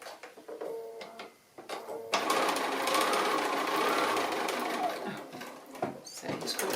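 A sewing machine stitches the curves of a robin project in short runs, then one long steady whirring stretch, close and clear, with pauses where the fabric is turned.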